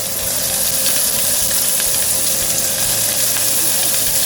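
Onions frying in an old, antique ladle for biryani, a steady close sizzle with bubbling oil and faint stirring throughout, no voices.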